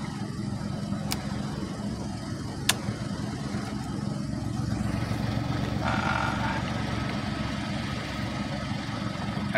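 A car engine idles at low rpm with a steady low rumble, close and moderately loud, with a couple of sharp clicks early on and a slight rise in engine level later.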